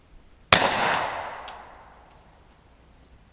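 A single sharp gunshot from a .40 S&W Hi Point semi-automatic carbine fired at an expo marker in a backyard, loud and close, with a long fading outdoor echo.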